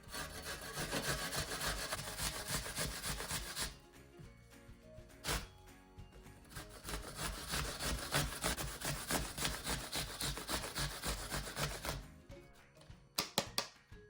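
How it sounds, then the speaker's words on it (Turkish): Green apples with the peel on are rubbed against a grater in fast, rhythmic rasping strokes, close and fairly steady, with a brief pause partway and a few louder scrapes near the end. "Elmalarımızı güzelce rendeliyoruz."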